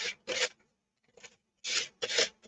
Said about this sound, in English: As I sand this off